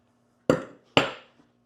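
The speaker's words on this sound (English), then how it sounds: "Crescent wrench." Two sharp metallic clanks, about half a second apart, come as a crescent wrench is handled and set down, followed by a faint tick.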